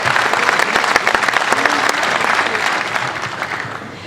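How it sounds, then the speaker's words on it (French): An audience applauds at a French political conference on Marine Le Pen's online campaign, a dense steady clapping that fills the room for about four seconds and eases slightly toward the end. "vous pouvez l'applaudir"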